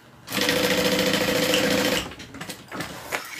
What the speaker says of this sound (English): It's a handless vacuum cleaner.